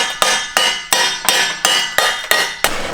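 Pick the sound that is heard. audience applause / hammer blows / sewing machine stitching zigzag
hammer blows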